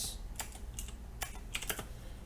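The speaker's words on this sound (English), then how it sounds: "typing is going to be fun today" A computer keyboard clatters in short, uneven bursts of keystrokes, close and clear with no voices over it.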